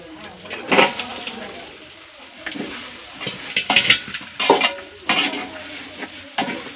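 Meat is tipped into a pan of browned onions and curry leaves, then stirred: repeated scraping strokes and soft sizzling at close range, in uneven bursts.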